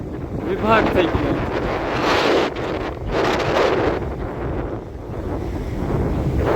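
Strong wind buffets the microphone at an overflowing dam, a loud, continuous roar with surging gusts and a rushing undertone like churning water.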